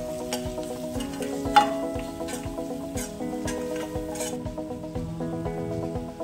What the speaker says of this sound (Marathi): तर आपण हे व्यवस्थित मिक्स करून घेऊया।